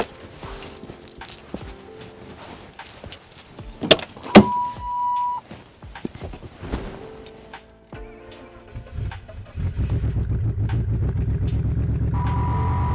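A car engine cranks and catches, then settles into a loud, steady idle. Earlier there are scattered clicks and clunks of handling, with a brief whine.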